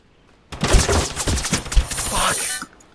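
Rapid automatic gunfire in the game Totally Accurate Battlegrounds, a dense burst of loud, close shots lasting about two seconds before cutting off.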